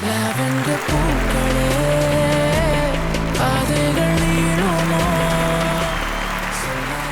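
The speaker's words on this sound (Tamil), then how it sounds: "ஒரு பெரிய கைத்தட்டுடன் மேடைக்கு அழைக்கிறோம்" Audience applause welcoming actress Nithya Menen onstage at a film audio and trailer launch event, a loud sustained wash of clapping with steady music tones running underneath throughout.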